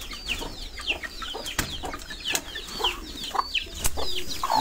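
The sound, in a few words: Thai Silkie chickens clucking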